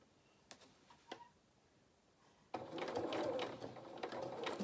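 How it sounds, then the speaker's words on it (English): A sewing machine stitching fabric edges together, a few faint clicks before it starts up, then a steady close mechanical whirr of rapid stitching for the second half, no talking. "So let's start sewing again with our raw edges of our fabric together."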